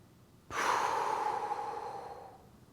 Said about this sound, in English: in case you weren't familiar with what a deep breath was